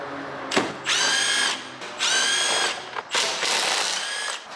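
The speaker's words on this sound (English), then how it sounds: "Take our three bolts out." Power drill or impact driver backing bolts out of a 2023 Dodge Ram 1500 door, three high whirring runs with a bright mechanical whine, separated by short clicks and pauses.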